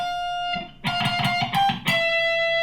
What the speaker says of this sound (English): So we're going to get a tone and a half bend.